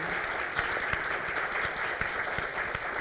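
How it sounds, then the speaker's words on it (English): An audience at an annual community meeting claps in a dense, sustained round of applause, many hands at once, steady throughout and moderately loud without any voices standing out. "Please join me in giving a huge round of applause to Cat and Bobby."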